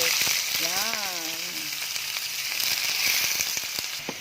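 Squid sizzling and frying in a pan for adobong pusit with tomato, a steady broadband hiss throughout with scattered crackles and stirring clatter; a short voice-like tonal sweep sits near the start.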